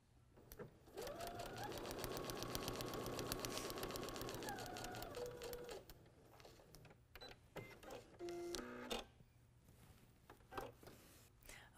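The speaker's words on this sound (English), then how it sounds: "I'm ready to stitch on the next line" A sewing machine stitches a seam across a quilt block, running in a steady, fast mechanical whir for several seconds and then slowing and stopping, with some handling sounds after.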